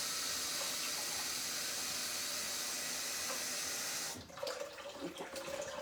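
Tap water runs steadily into a container while heating a water bath for baking a cheesecake, a continuous rushing hiss for about four seconds that then cuts off, leaving faint clinks and room sound.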